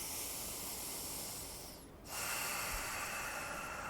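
Deep diaphragmatic breathing through the nose: a long, steady airy hiss of inhalation, a short quiet pause near the middle, then a sustained exhale, all close to the microphone with no talking.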